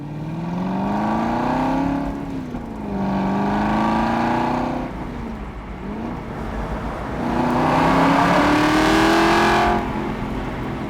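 A 2009 Aston Martin Vantage 4.7 engine revs while driving, rising and falling through several loud pulls with gear changes, heard close with no talk.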